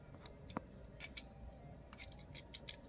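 Scissors snip cork for a D&D model build in a few sparse, crisp clicks and cuts, close but quiet against a faint room hiss.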